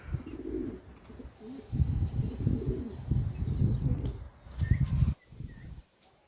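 Homing and tumbler pigeons coo softly and repeatedly close by in a coop, low rolling calls overlapping, with a faint flutter and light background noise.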